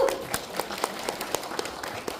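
An audience at a Daegu Buk-gu local government talk event claps in scattered, uneven individual claps, sparse and moderately close rather than a full ovation.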